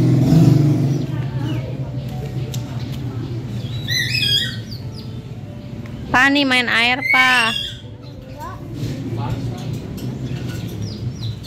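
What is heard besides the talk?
bird calling loudly outdoors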